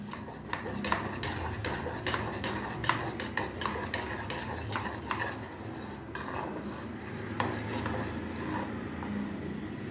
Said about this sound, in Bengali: ব্যাটারটা ভালোভাবে গুলে একটু যেন লাম্প না থাকে সেইভাবে গুলতে হবে।